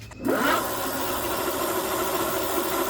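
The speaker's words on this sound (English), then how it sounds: "you hold the power button, twist throttle" A Kingbull Hunter 2.0 fat tire e-bike with a 750W motor, powered up and given throttle, lets out a rising whine that settles into a steady electric hum with a hissy edge, close and alone.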